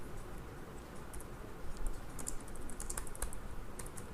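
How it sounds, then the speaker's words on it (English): Quiet, steady typing on a computer keyboard while writing C++ code, a continuous patter of soft key clicks with a few sharper taps, close and alone with no talking. "I'm kind of like typing the same thing over and over again"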